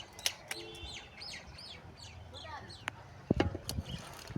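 A rescued myna bird gives a series of short chirps and whistled calls, close and moderately loud, followed near the end by a few sharper bursts of sound.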